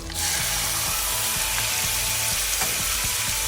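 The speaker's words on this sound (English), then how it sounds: "you want to really hear that beef sizzling as it goes into the wok" Loud, steady sizzling of meat frying in a hot wok, a dense crackling hiss throughout with faint clicks of stirring, no talking.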